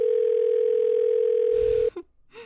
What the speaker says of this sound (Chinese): 我现在就给谭总打电话